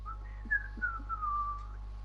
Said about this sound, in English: Trying to whistle the Megalovania theme